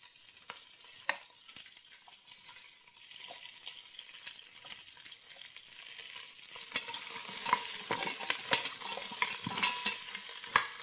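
Onions frying in a pan in a kitchen while soup and sauce are cooked: a faint hiss that grows into a denser crackling sizzle with scattered sharp pops, close and with no talk.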